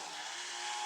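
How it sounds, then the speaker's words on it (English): String trimmer running in the grounds beside a narrowboat, a faint, steady buzzing whine heard from a distance with no break. "I think he must be using a strimmer at the moment."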